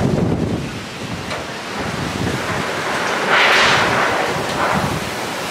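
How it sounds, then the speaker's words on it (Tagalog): Strong typhoon wind blowing outdoors in Laguna, a continuous loud rushing roar buffeting the microphone, with surges that swell and ease, including a brighter gust near the middle. "Lakas ng hangin."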